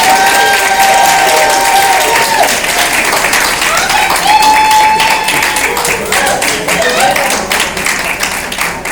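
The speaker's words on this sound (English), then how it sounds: "Ladies and gentlemen, give him a round of applause." A banquet audience claps continuously, dense and lively applause with whistles and scattered cheers, close and loud throughout.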